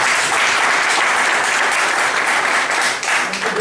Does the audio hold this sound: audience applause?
yes